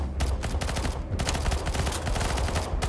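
Dense, rapid gunfire rattles almost without pause in a CS:GO zombie mode match, loud and close, with overlapping shots that could include a pump shotgun among other weapons.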